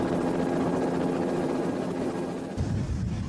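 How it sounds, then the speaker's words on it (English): Helicopter flying near an erupting volcano, a steady droning rotor and engine hum heard from inside the cabin, with a rougher rumble breaking in toward the end and no voices. "Mark Davies can't just watch from the safety of the helicopter."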